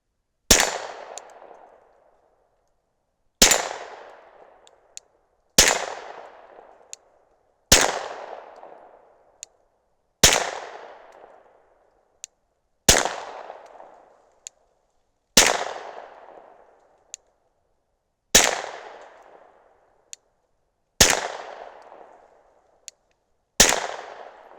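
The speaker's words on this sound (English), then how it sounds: "while I'm shooting this next magazine" Ten sharp gunshots from a Glock 19 fitted with an Omega 36M suppressor fire at a slow, fairly even pace, each crisp report followed by a short decaying tail, loud and close with no talking.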